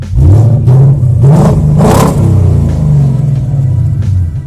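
A Ford Mustang GT V8 with an H-pipe exhaust revs repeatedly, the engine roaring up in short blips then settling into a heavy, burbling rumble close by.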